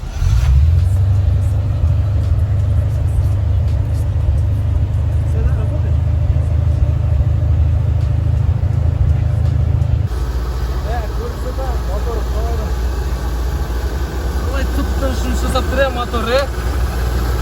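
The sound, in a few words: 1979 Rolls-Royce Silver Shadow engine running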